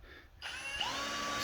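A power drill spins up in reverse to turn a Polaris cable-drive speedometer cable, its whine starting after a brief quiet moment and rising into a steady, close, moderately loud motor tone.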